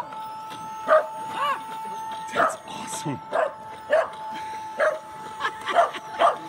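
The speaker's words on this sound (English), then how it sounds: "Oh, it's a dog." A real dog barks repeatedly at a robot dog, sharp close woofs spaced irregularly over a steady electronic whine, with a person speaking briefly between the barks.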